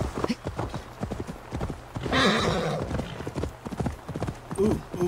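Horse hooves clip-clop steadily in an Assassin's Creed Valhalla game world, with a loud whinny breaking in midway, close and clear over a faint bed of game ambience.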